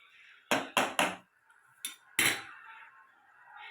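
A metal utensil strikes a cooking pot holding a rice dish, giving three quick clanks followed by two more spaced knocks with a faint scraping sound between them; close and clear, with no voices.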